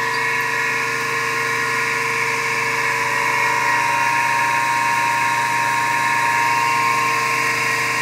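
A three-phase induction motor coupled to a generator runs steadily under load, giving a continuous loud electrical whine with a constant mechanical hum and no speech.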